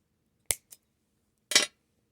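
Scissors snip wire for a wire-and-bead bonsai tree in two crisp close clicks, a faint echo after the first, then a longer snip in otherwise quiet surroundings.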